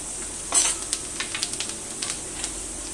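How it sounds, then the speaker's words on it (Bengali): Mustard seeds, cumin and a dried chilli crackle in hot mustard oil, with a steady faint sizzle and a series of small sharp pops and spits, one louder burst near the start. "তেলের মধ্যে আমি ফোড়ন দিচ্ছি, অল্প মোহরি, অল্প গোটা জিরে, আর একটা শুকনো লঙ্কা"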